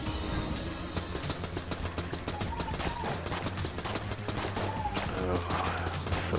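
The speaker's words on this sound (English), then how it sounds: "This AK-47 is running a little low." AK-47 gunfire in Enter the Gungeon, a rapid rattling stream of shots over game music and effects, steady and moderately loud throughout.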